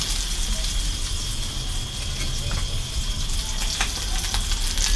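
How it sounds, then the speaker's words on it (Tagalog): Steady crackling sizzle of dried tamban fish frying in hot oil, continuous and close, with a few faint sharper pops. "Prito tayo ng prito tayo ng bulad."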